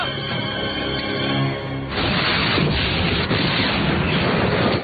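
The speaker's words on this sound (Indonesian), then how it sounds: "Alhasil dia gagal dan mobil itu pun meledak" Car bomb exploding in a film, a loud sustained blast and roaring rumble that cuts in after a tense tonal score and continues for several seconds before stopping abruptly.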